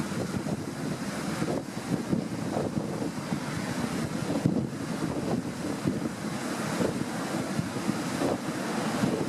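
Large storm waves several metres high break onto a shrinking beach near houses, a continuous loud roar of surf mixed with heavy wind buffeting the microphone, no voices.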